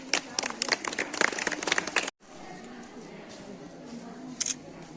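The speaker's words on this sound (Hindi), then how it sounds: "ताली मारिए।" Audience clapping at a school teaching-aid fair in Masaurhi, Patna: a burst of sharp, irregular claps under voices for about two seconds, then an abrupt cut to quieter room noise with murmuring and a single faint clap.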